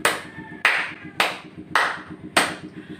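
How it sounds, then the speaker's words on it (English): Five sharp, evenly spaced group claps ring out in a classroom for student volunteers during a demonstration lesson. Each clap is loud and crisp with a short decay, over a low background hum. "Let us give them 5 claps."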